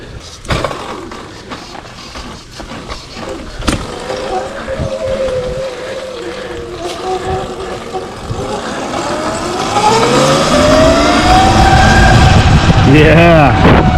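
Surron X Light Bee electric dirt bike on the move, its motor whine rising and sweeping in pitch as it speeds up, growing louder toward the end along with wind and road noise.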